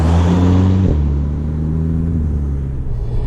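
A 2000s VW Golf GTI Mk5 hot hatch with close to 200 horsepower gives a loud, close engine rumble that rises in pitch as it accelerates, then settles into a steady drone.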